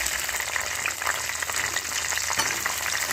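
Garlic fries in hot oil for a tempering, a continuous close sizzle with occasional stirring scrapes and no talk.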